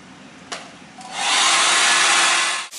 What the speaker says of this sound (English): I just heat it up enough to grind it down a little bit